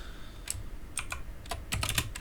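Typing on a computer keyboard while writing C code on a Windows machine: several clusters of quick, light key clicks, close and moderately loud, with brief pauses between bursts and no talk.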